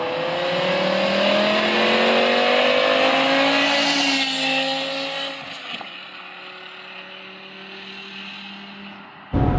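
A 2008 BMW E60 M5 with its V10 engine, revving smoothly and climbing steadily to a high-pitched wail, then dropping back to a lower note, loud and close with no talking.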